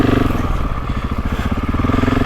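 A GasGas dirt bike idles with a loose bash plate rattling against the frame, a close, rapid metallic clatter riding on the engine's pulsing beat.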